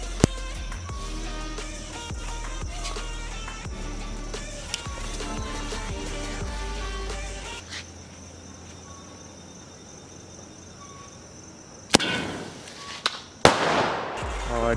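Diwali firecracker launched at an angle: a steady fizzing crackle with low rumble, then a sudden loud bang followed by a second sharp blast and scattered crackling, outdoors with insects chirping.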